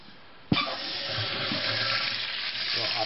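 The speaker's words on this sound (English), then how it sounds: "just the next thing you do is just turn back on the water" Water rushing into a toilet tank as the supply is turned back on after repairs, starting abruptly with a clunk and then a steady close hiss of filling water that continues evenly without voices.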